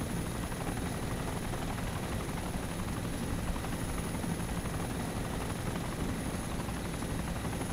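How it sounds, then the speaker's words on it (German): Helicopter in the video game DayZ Origins flying nearby, a loud, steady rotor drone filling the whole clip without pause and with no talk over it. "Siehst du den Heli da hinten? Alter, wie laut ist der, Mann?"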